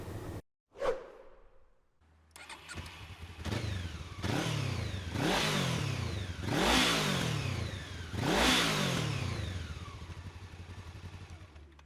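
A 1999 Honda CB 500 parallel-twin 500 cc motorcycle engine revs up again and again, each throttle blip rising in pitch and falling away, steady and fairly close with no voices.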